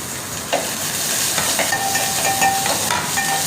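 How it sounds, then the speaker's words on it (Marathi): Finely chopped onion and a chilli sauté in a pan with a continuous close sizzle, broken by light scraping from stirring. "आता कांदा आपल्याला थोडासा गुलाबी रंग होईपर्यंत परतून घ्यायचा"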